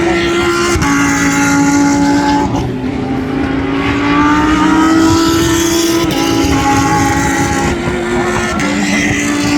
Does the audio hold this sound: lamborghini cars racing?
yes